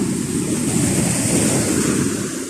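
Sea waves wash onto a beach lined with beach morning glory beside a road, a loud, steady roar of surf without distinct breaks, close by with wind buffeting the microphone.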